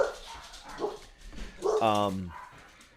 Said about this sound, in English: the fucking dogs are barking now